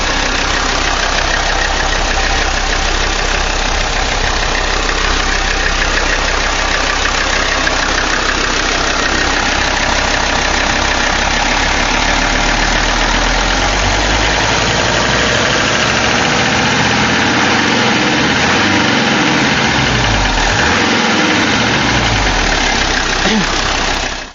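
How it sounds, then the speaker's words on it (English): A warmed-up 1981 Mercedes 300CD turbo diesel engine idles steadily and loudly up close, a constant low rumble with a slight knocking texture that never lets up. "engine's all warmed up now, idling just fine"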